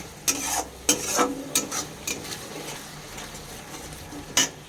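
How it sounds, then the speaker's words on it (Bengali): Yogurt being stirred into spice paste in a pan, a few sharp scrapes and clacks of a spoon against the pan over a faint cooking hiss, with a louder scrape near the end. "এই যে আমি দইটা অ্যাড করেছি, দেখুন ভালো করে মিশিয়ে নেব।"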